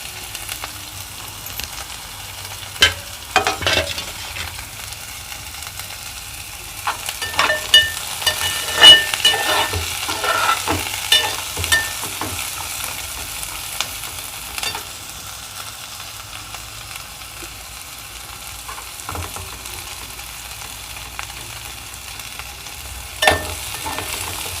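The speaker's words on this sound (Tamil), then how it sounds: "இப்போ வெங்காயத்தை வதக்கலாம்." Onions sauté in a pan for small bitter gourd poriyal, a soft continuous sizzle broken by scattered scrapes and clinks of stirring, close and moderately loud, with no talk.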